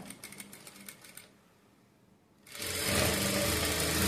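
Sewing machine stitching thread piping onto net cloth for a blouse, starting with a light rapid patter, pausing briefly, then running into a loud, steady whir that fills the end.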